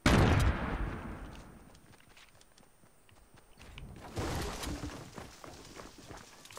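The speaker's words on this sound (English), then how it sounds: "I threw a grenade." A grenade blast in a video game bursts loudly at the start and fades into scattered gunshots and clattering in-game noise, with another burst of shots near the end.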